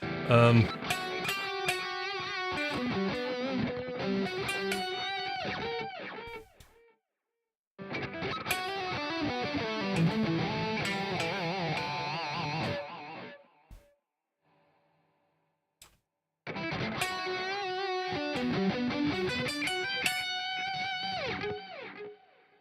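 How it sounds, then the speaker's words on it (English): Electric guitar run through a Kiesel HyperRig with added delay and reverb, played in three sustained phrases separated by short silent gaps, notes ringing out and trailing into echoes. "we can just add in as much delay and reverb as we think we need"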